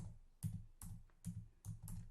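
Fingers tap keys on a computer keyboard in a few quick, quiet clicks with short gaps between them, close and alone.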